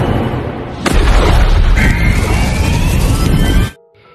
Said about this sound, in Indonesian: John pun meledakkan gua tersebut